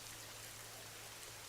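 Heavy rain falls steadily, a dense, even hiss of water with no breaks, faint and continuous with no voices.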